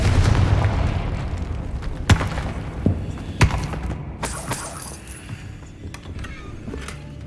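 Confringo blasting spell from Hogwarts Legacy, going off as a few sharp booming blasts with shattering crackle over a rumbling game soundscape, each burst loud and brief.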